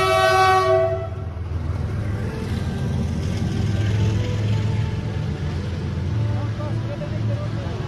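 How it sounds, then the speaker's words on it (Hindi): A train arrives and rolls past a level crossing in Kishanganj, opening with a loud blast of horn before the steady rumble and clatter of passing wagons fill the rest, heard up close without pause. "ट्रेन आ गई है दोस्तों, अब ट्रेन के वाइब्स का एंजॉय कीजिए आप, ट्रेन के साउंड का"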